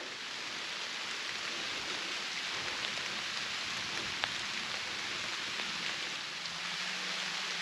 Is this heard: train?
no